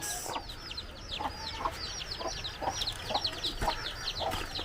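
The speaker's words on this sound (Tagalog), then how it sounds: "Yan ang manok na ulikba." An ulikba chicken, a black-boned breed, clucks repeatedly in short, bursting calls, fairly close, with other birds chirping faintly in the background.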